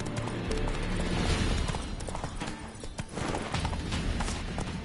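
Roach, Geralt's horse in the video game The Witcher 3, clip-clopping along with a steady run of hoofbeats at moderate loudness, the footfalls close and continuous with no talk over them.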